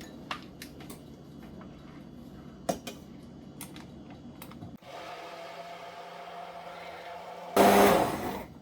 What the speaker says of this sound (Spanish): Y vas a batir o a licuar.